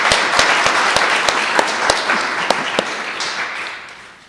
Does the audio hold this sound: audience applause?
yes